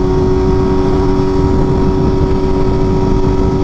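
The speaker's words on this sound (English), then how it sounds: "Bro, I love having a loud exhaust." A loud, steady engine drone with a strong low hum holds throughout, like a BMW M1000RR motorcycle idling or cruising close by with a loud, throaty exhaust.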